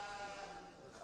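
A sheep bleats at a youth livestock show, one sustained wavering cry with a faint murmur of crowd around it.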